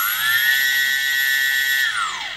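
Small electronic motor of an F1S/E36 Tiny Timer model aircraft whines steadily at a high pitch, holding for about two seconds at a raised speed before winding down, loud and close with no talk.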